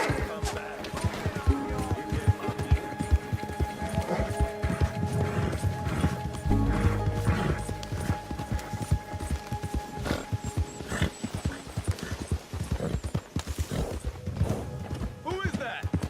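Horse hooves clip-clop steadily through a Red Dead Redemption ride, a regular walking beat mixed with a whinny, game music and characters talking over it.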